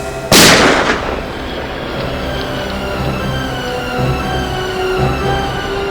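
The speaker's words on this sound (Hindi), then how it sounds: "अभिजीत, गोली तो अब भी चलेगी एसीपी" A single loud gunshot cracks out near the start of a TV crime drama scene, followed by a long echoing rumble that slowly fades.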